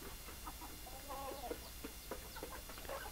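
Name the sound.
large Basilan breeder rooster clucking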